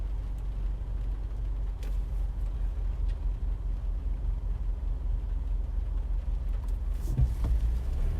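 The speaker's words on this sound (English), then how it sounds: "I don't know what this car is doing." A car rolls along close by, a steady low rumble of engine and road noise heard from inside a vehicle, continuous and fairly loud throughout with no speech.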